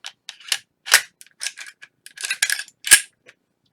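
Glock 43 pistol being function-checked after reassembly: a quick series of crisp, close metallic clicks and snaps from the slide and trigger, irregularly spaced, with one sharper louder snap near the end and silence between.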